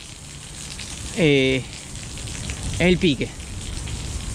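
Heavy rain falls steadily and loudly around an outdoor fishing spot, a dense continuous patter throughout, with a voice speaking briefly twice over it.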